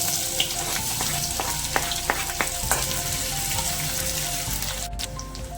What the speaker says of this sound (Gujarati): ડુંગળી ફ્રાય થાય ત્યાં સુધી હલાવ્યા કરવાનું.